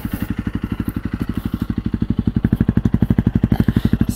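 A 2022 Honda CRF300L with a Yoshimura RS-4 full exhaust idles close by in a steady, rapid thumping pulse, with a faint metallic rattle riding on the beat.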